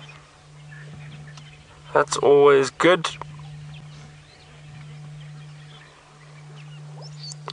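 Egyptian geese on the far side of a river bank give a short burst of harsh honking that sounds fairly close and clear above a steady low engine hum, and someone speaks briefly.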